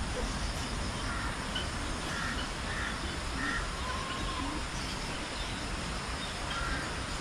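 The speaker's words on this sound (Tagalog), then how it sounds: "Maraming uwak dito sa aming paligid mga kaprobinsya oh." Crows caw repeatedly, at middling distance, around a rural provincial yard where they circle looking for chicks, the calls sitting over steady outdoor background noise.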